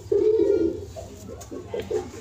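A pigeon coos close by in a few soft, throaty bursts, one longer call followed by shorter ones, alone with no speech.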